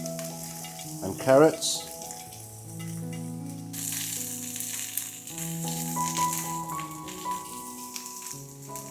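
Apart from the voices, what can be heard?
string beans and carrots stir-frying in oil in a pan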